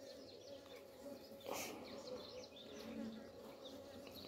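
Honeybees buzz around a hive in a faint, steady outdoor drone, with a short louder pass near the microphone midway and a few distant bird chirps.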